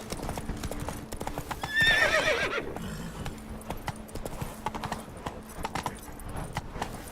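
Roach the horse in The Witcher 3 galloping with rhythmic clip-clop hoofbeats, a loud whinny partway through, then steady hooves continuing, all close and clear.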